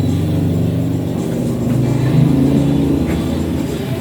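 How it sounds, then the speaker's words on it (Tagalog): A loud motorcycle passes along a roadside outside a home, its engine giving a steady, close, droning roar that swells slightly midway and then holds. "Napakaingay ng motor"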